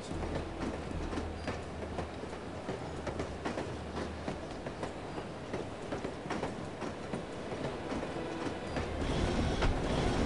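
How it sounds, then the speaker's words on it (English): A train rolls along its rails in the 2000 PC game The Operative: No One Lives Forever, a steady rumbling hum with rhythmic clacking that swells louder near the end, no talk over it. "I love riding the train."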